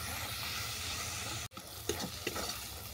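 Chicken curry masala with turmeric and sugar sautéing in a pan, a constant hissing sizzle broken by a sudden short gap, then stirring scrapes over the frying.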